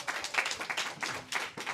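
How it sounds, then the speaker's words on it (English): Brief applause from an audience at a Startup Grind event in Vienna, a short burst of clapping lasting under two seconds with uneven, dense claps at close range. "A round of applause for you is very much due."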